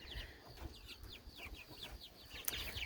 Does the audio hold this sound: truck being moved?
no